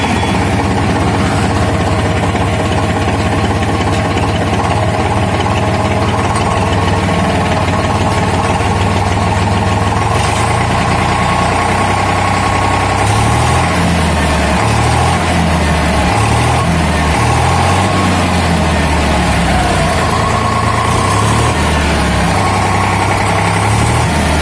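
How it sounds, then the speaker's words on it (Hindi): An Eicher 485 tractor engine starting and running close by, a loud continuous diesel chug that settles into a steady idle, its rhythmic knocking growing more pronounced later. "तो चलिए स्टार्ट कर लेते हैं ट्रैक्टर को और साउंड सुनते हैं।"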